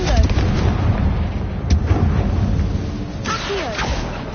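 Confringo blasting spell exploding in a video game on PS4, with sharp bursts and rumbling booms over continuous battle noise, and a brief voice shout mixed in.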